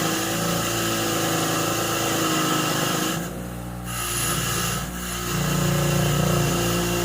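An old bolt is pressed against a spinning wire wheel to strip rust, a loud steady motor whine with harsh grinding that dips briefly twice as the bolt is lifted away.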